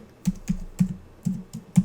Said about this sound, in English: we can start typing right away